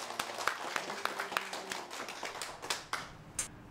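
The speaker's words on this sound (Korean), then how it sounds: "뜨거운 박수로 환영합시다." A small audience at a village gathering in Namwon-eup, Jeju, gives a short burst of scattered applause to welcome a guest; the claps are faint, uneven and last a few seconds.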